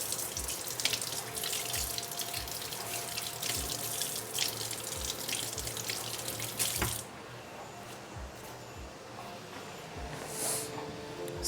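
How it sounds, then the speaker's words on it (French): Tap water runs steadily over vegetables being rinsed in a kitchen sink during a salmon and rice recipe, a close hiss with occasional drips, then the flow stops and only faint drips remain. "On va même les rincer."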